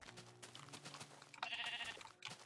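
A sheep bleats once in a video game, a short wavering cry heard alone against soft background game sounds.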